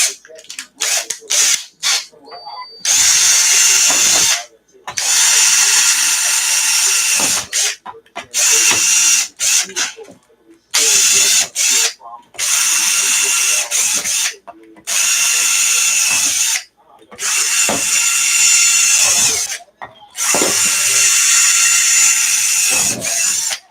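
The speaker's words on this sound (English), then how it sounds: "I just gotta get this damn thing drilled." Power drill boring into the plastic battery box of an ARRMA Kraton RC car, loud close whirring bursts of a few seconds each separated by short pauses, with ratcheting clicks in between.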